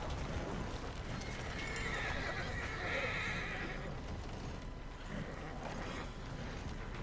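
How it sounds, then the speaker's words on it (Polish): Horses in the video game Red Dead Redemption 2 whinny and snort over a steady, busy background with hooves clopping, fairly loud and continuous throughout, no talking. "Koniki, uspokójcie się, uspokójcie."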